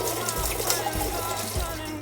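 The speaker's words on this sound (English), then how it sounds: "But first we must wash our hands." Hands are washed under a running kitchen tap, a steady close splash and trickle of water lasting a couple of seconds with nothing else over it.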